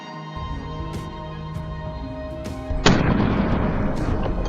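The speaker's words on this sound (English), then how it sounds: "A gunshot cracked through the air" A single sharp gunshot crack rings out partway through a wild boar hunt outdoors, loud and close, followed by a broad noisy rumble, after several fainter thuds and clicks.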